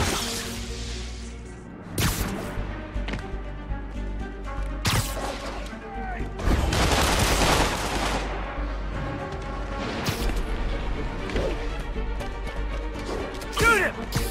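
Enemy gunfire in Spider-Man on PS4 comes as several sharp, loud bursts spread across the stretch. Whooshes and crashes mix in between the shots, over a steady game backdrop.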